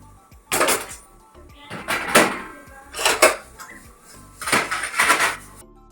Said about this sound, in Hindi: तो चलिए पहले बर्तन संभाल लेते हैं